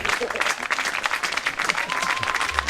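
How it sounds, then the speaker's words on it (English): Spectators at an amateur baseball doubleheader give a batter a steady round of applause that fills the whole stretch, with a commentator talking over the clapping crowd. "he gets a nice round of applause"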